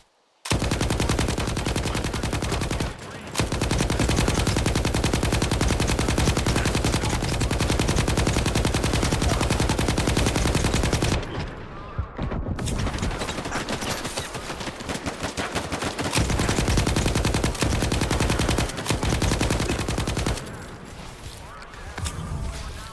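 Sustained bursts of automatic machine gun fire from STALKER 2, loud and dense, running almost continuously with a few short breaks.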